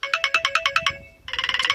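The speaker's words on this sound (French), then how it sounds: "mon téléphone sonne évidemment au bon moment" A mobile phone ringtone plays loud and close, a rapid repeating electronic trill that pauses briefly and then starts again.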